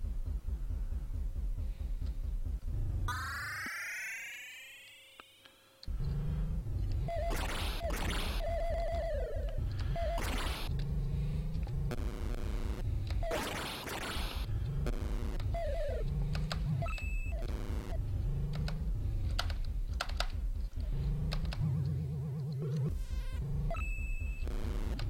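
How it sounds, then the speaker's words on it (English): Commodore 64 sound effects from Citadel: chirpy synthetic bleeps, sweeping zaps, a rising whoosh and throbbing buzzy tones, loud and busy over a steady low hum. "I think some of the best sound effects I've heard on the C64"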